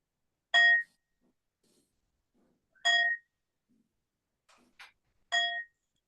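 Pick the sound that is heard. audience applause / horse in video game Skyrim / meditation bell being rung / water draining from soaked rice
meditation bell being rung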